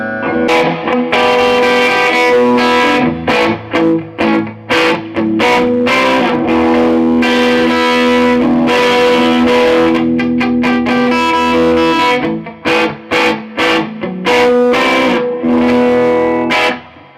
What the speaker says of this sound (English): I'm just using the natural tube distortion on the amp to drive it